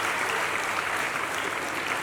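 Audience at a memory championship event in Mumbai clapping, a dense steady wash of applause from a crowd, sustained and even throughout.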